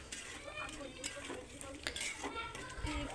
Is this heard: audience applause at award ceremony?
no